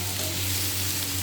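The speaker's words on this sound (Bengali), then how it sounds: "এটা ভাজা ভাজা হয়ে যাচ্ছে প্রায়।" Young jackfruit frying in a pan, a steady close sizzle of hot oil with faint stirring, continuous and unbroken for a moment with no voices.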